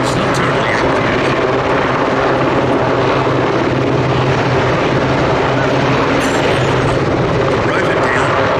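A Westland Sea King HAR3 helicopter hovers low at an air festival, its loud, steady rotor thrum and downwash roar filling the whole stretch, with a commentator's voice faintly under the noise.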